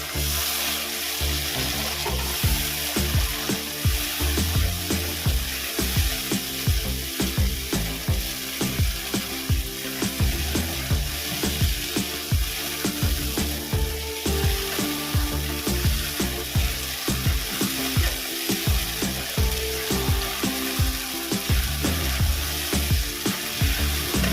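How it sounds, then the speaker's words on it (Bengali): Spice paste with ground cashew nuts frying in oil, a dense continuous sizzle with repeated stirring scrapes for a vegetarian dish, close and steady, no talking, with low background music. "আমি এখানে কাজু বাদাম পেটে রেখেছি এটা দিয়ে দেবো এবার মশলাটা ভালো করে কষিয়ে নেবো"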